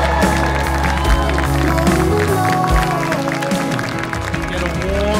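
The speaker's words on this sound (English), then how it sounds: "Get a warm round of applause for Vincent Wang and Stephanie Tso!" Applause and cheering break out for a newly married couple at an outdoor wedding ceremony at Boulder Ridge in San Jose. The crowd noise is loud and steady throughout, and music plays along with it.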